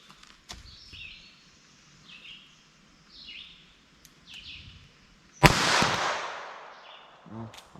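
A single sharp, loud gunshot from a .22 Long Rifle cartridge fired from an early metallic-cartridge handgun cracks out about two-thirds through, trailing a short reverberant tail, with bird chirps scattered through the quieter outdoor stretch before it.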